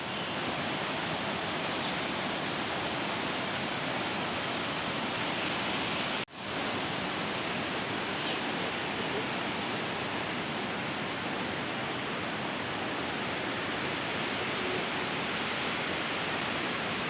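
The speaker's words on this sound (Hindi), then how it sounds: "दरिया भी अच्छा खासा इसका पानी ऊपर आया हुआ है, क्योंकि मुसलसल बारिशें होने की वजह से इसका पानी बहुत ज़्यादा हो गया है।" A river swollen from days of continuous rain rushes past in a steady, dense roar of flowing water that stays close and loud throughout, with only a brief dip partway through and no voices.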